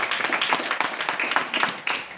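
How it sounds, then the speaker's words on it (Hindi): An audience at a weekly business meeting applauds, a dense continuous patter of many hands clapping with uneven surges, moderately loud and filling the room, with possible voices mixed in. "शिवशंकर सर के लिए जबरदस्त तालियां चाहेंगे।"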